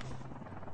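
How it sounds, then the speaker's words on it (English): A helicopter in the mobile shooter game Call of Duty Mobile whirs close and steady, a dense continuous rotor drone that fills the short moment without voices. "I just heard a chopper."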